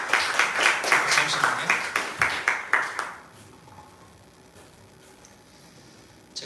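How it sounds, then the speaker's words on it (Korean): A burst of applause with dense, rhythmic clapping from a church congregation after a baptism for about three seconds, then it stops and a voice speaks briefly over a quiet room. "박수로 환영해 주시면 고맙겠습니다."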